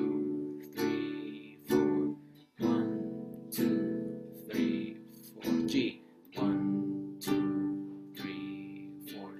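A guitar plays the opening two bars of a song as a run of strummed chords, each ringing and then fading, in an even rhythm of about nine strokes. It is close but fairly soft.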